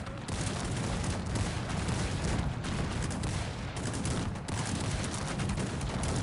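A dense, continuous barrage of booming cannon fire and crackling shots in Cossacks 3, cannons firing at dragoons, a loud battle din with no pauses and no talking.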